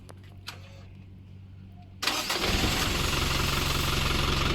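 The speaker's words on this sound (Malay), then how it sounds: "sekarang ni kita akan menghidupkan enjin lori" A truck's diesel engine is started while fitted with a heat-recovery unit on its exhaust. After a quiet hum comes a sudden loud catch at two seconds, and the engine then settles into a steady, rumbling idle.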